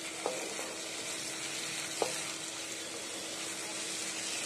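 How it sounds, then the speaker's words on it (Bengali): Ginger-garlic paste fries in hot oil with a steady, bright sizzle throughout, and two brief stirring clinks break through the hiss. "রসুন আদা বাটাটা আমি একটু ভেজে নেব যাতে আদা রসুনের কাঁচা গন্ধটা চলে যায়।"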